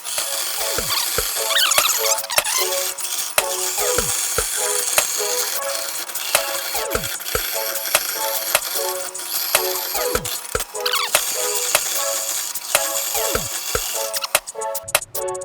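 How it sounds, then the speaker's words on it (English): A bandsaw cuts out a metal part for a VW Bus restoration, a steady loud mechanical drone carrying a rapid series of sharp ticks and clicks throughout, with no voices. "just got it cut out on the bandsaw"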